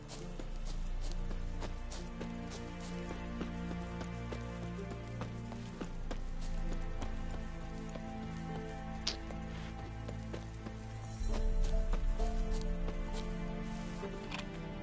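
Horse hooves clip-clop in The Witcher 3, a steady galloping rhythm beneath continuous game music and ambience, with a louder swell near the end.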